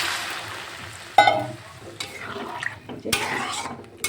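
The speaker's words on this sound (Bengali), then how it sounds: "এটা পরিমাণ মতন জল দিয়ে দিচ্ছি," Water poured into frying sweet corn curry tempered with whole spices and a little oil, then stirred; a sudden splash and hiss followed by scraping stirs and soft sizzling in a pan.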